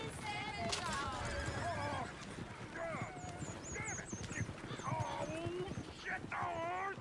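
Horses whinny and neigh several times over a steady clatter of hooves, with people talking and shouting throughout, in the video game Red Dead Redemption 2.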